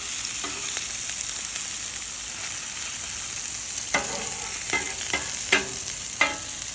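Smash burgers cooking on a Camp Chef griddle, with a steady hiss of frying fat throughout and a few sharper crackles and pops near the end; no one speaks.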